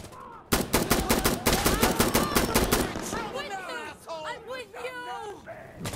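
Rapid automatic gunfire in Insurgency Sandstorm cracks out in a fast, loud string of shots. It fades into distorted voices and shouting over the action.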